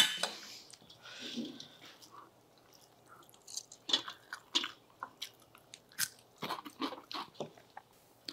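Close, crisp crunching and biting while eating gongura pickle with rice, a steady series of short chewing bursts with faint clinks of dishes, quiet and intimate, with no talk.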